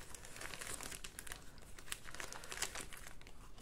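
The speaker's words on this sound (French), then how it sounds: "Donc je remets dans mes pochettes, sinon je vais tout mélanger." Paper cards and tags slipped back into plastic pouches for a Halloween ephemera book, giving soft continuous crinkling and rustling close up, quiet and without talk.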